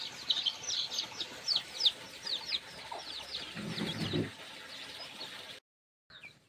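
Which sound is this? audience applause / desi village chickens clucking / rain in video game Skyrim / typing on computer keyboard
desi village chickens clucking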